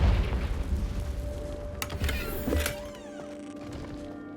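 A Confringo fire spell exploding in Hogwarts Legacy, a heavy booming blast with crackling debris and bright bursts that fade into a lingering tonal hum.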